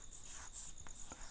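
Marker strokes squeak and scratch on a board as the letter H is written, a few short, quick strokes close up with no talking.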